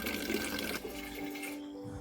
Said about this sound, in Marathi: इथे मी असं आरोचंच पाणी भरून घेत आहे.